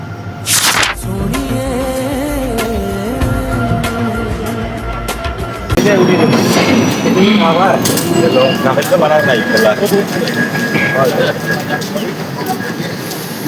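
Train pulling into a station platform, a low rumble and metallic rattle with clanks under people talking nearby, growing busier and noisier in the second half.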